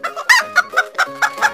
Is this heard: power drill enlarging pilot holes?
no